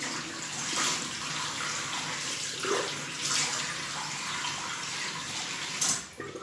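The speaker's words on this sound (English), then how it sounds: "I'm going to wash my face." Tap water runs steadily into a bathroom sink during face washing, a continuous hissing splash with a few brief surges of splashing from hands in the stream, no voices.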